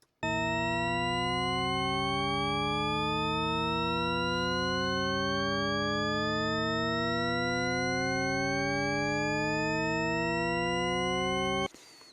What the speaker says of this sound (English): let's look at it as a Shepard tone generator